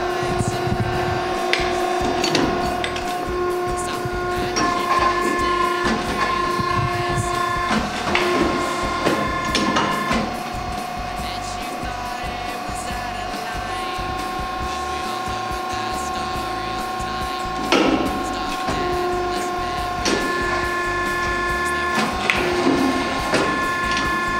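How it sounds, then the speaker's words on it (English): A special pulley arm on a Bluedog BMC-10 electric motor recycling machine pulls copper windings out of a motor stator, a steady mechanical whir with tonal hum and intermittent scraping and rubbing bursts throughout. "this special pulley arm over here, and this will help us pull out the final windings from the stator"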